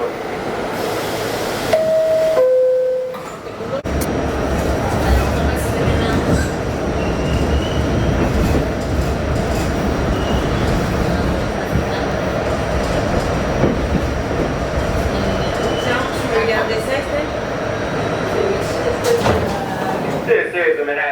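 An MTA R68A Q subway train rides between stations in New York, with a steady loud rumble of wheels on track, rhythmic clatter and occasional squeal, after a brief door chime at the start.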